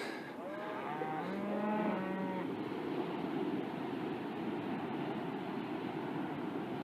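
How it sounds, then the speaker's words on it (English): Near Ferndale, California, coastal cows give a couple of drawn-out moos at the start, then fade, leaving a steady rush of ocean surf and wind. "Those cows are so noisy"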